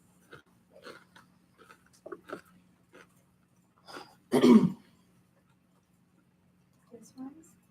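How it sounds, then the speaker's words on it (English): A loud, harsh cough bursts out once, preceded by scattered throat clearing and breathy sounds; quiet speech-like noises follow. "I was just coughing"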